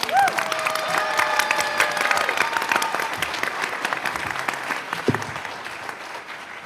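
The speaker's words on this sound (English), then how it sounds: "So let's give these winners another round of applause." Audience applause for award winners at a school district board meeting, steady sustained clapping from a room full of people that holds throughout and thins slightly near the end.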